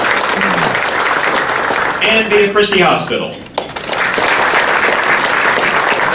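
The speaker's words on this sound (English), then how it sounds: "Big round of applause for Names and Numbers." Audience applause for sponsors at a State of the City 2015 civic event, a broad steady wash of clapping under a speaker's amplified voice, briefly dipping before rising again.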